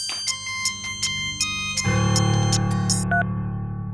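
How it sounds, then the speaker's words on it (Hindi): A mobile phone ringtone sounds in a Bhojpuri TV serial scene, with repeated electronic tone bursts over a steady background that grows louder partway through. No speech is heard. "सर आपका फोन का रिंग बज रहा है"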